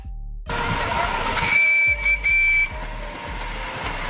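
A miniature train gives a bright steam-style whistle in several short shrill blasts over hissing steam and rhythmic chuffing, loud and close.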